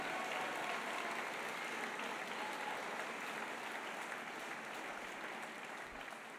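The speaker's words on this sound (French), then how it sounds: "Allez-y, si vous voulez applaudir." An audience at a political speech breaks into sustained applause, a dense, even wash of clapping that holds steady for several seconds and tapers only slightly, with no speech over it.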